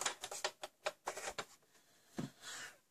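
Stampin' Up Big Shot die-cutting machine cranking card through its plates, a quiet series of close, irregular clicks and ratchety taps followed by a brief thud and a soft grinding rumble.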